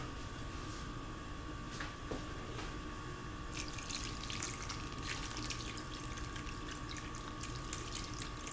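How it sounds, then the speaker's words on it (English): Water pours into a pot of simmering lima beans and ham hocks, a soft splashing trickle that grows busier partway through over a steady low hum of the kitchen. "I'm gonna add some more water."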